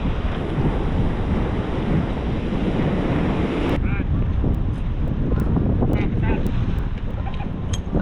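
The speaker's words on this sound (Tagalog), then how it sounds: "Lumalaki ang alon" Storm winds buffet the microphone over rough, growing sea waves around a small boat, a loud continuous roar of gusts and surf, with muffled voices speaking underneath at times.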